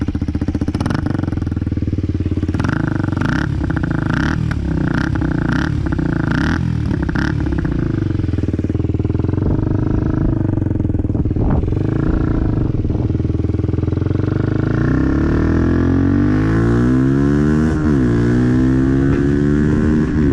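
A Kawasaki Z125 motorcycle with a full Arrow exhaust line and the dB killer removed revs hard in repeated loud bursts, then climbs in sweeping rising and falling throttle runs, heard close with no talk.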